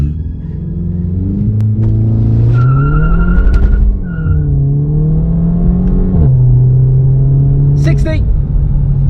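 Volkswagen Scirocco in sport mode with traction control off, engine roaring as the tires skid and squeal during a hard launch, loud and close, with a brief voice near the end.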